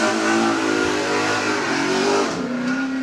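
A Ford XY GT Falcon race car accelerates hard at a lakeside hillclimb, its engine roaring loud and close with a rising, wavering note, then easing slightly toward the end.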